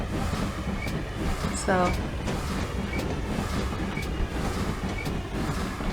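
A passenger train rolls out of Glasgow Central over the yard switches with a steady rumble from inside the carriage, a short rising squeal, and light clicks of wheels crossing the points, while a voice speaks briefly.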